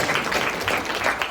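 A business Q&A audience gives a round of applause, a short burst of close, dense clapping that holds steady for its brief length with no talk over it.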